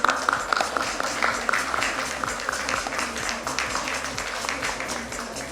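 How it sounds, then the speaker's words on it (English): Audience applause at a nursing conclave panel in a Mumbai hotel hall, a steady wash of many hands clapping from start to finish, with faint voices mixed in. "Let's hear a huge round of applause for them"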